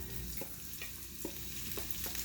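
Onions and celery sizzle in hot bacon fat in a pan, a steady close crackle broken by a few light stirring scrapes, with no talking.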